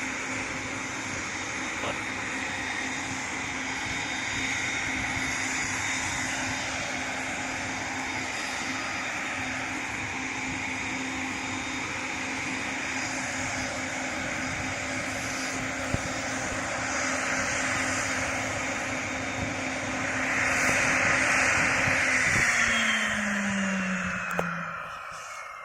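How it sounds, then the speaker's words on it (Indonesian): A Cessna Citation V US military jet taxiing at an airfield in Aceh during a refueling stop, giving a steady, continuous turbine whine and roar that swells slightly toward the end, heard from moderately close. "Pesawatnya lagi taksi. Suaranya keren banget, nggak berisik."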